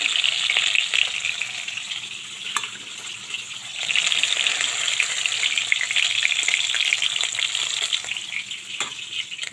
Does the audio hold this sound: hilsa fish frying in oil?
yes